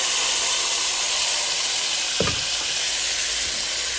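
Rice sizzling in melted butter in a hot pan for halal cart chicken and rice, a steady loud frying hiss throughout with a brief stir or clatter partway through, no talking.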